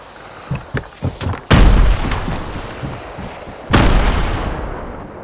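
Fortnite grenades going off in two loud, close booms, each followed by a long rumbling decay, after a few shorter gunfire pops.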